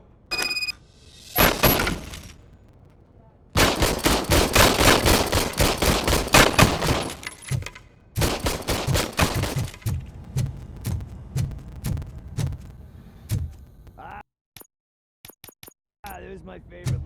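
An old service pistol fires in Robocop: Rogue City on PS5, loud sharp shots in rapid bursts, then sparser single shots with brief silences, some shattering mixed in.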